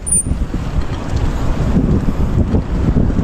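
Strong wind roars and buffets continuously, loud and close, with a steady gusty rumble throughout.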